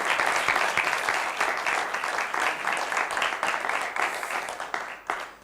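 Audience applause fills a French spelling game show studio, a dense, steady wash of many hands clapping close by for about five seconds before tapering off near the end.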